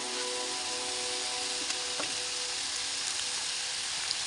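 Pork cubes sizzle steadily in a hot pan while pansit miki is cooked, a continuous bright frying hiss with a few faint clinks and no talk.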